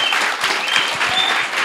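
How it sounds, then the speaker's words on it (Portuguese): An audience at a talk claps together in a dense, steady burst of applause, close and loud for its full brief length. "Palmas para o Pedro, então, que veio compartilhar."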